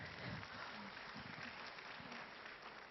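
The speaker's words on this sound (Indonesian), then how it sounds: "Tepuk tangan buat Pak Ivan." Audience applause at a business forum, honoring a speaker: continuous crowd clapping, fairly even and somewhat distant, with faint voices mixed underneath.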